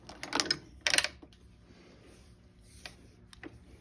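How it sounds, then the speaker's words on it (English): A shoe repair stitching machine working in a shop, giving two short, loud mechanical bursts of clacking near the start, then fainter intermittent ticks and clicks of the mechanism. "The needle comes up, a lifter grabs the thread off the needle, throws it behind the shuttle, and it makes a stitch."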